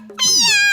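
A person does a single loud, close, drawn-out meow as mimicry practice, the voice imitating a cat.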